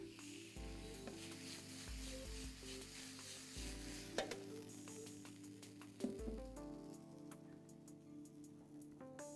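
Steak searing in a hot pan, a dense crackling sizzle with spattering pops and occasional utensil clinks, close and steady, no talking.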